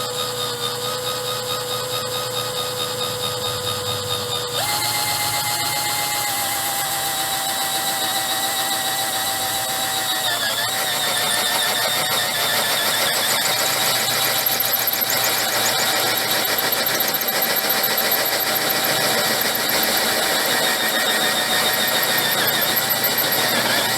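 A power drill grinds away dry epoxy, running continuously at a high-pitched whine that shifts pitch as it bites, loud and close throughout with no talking.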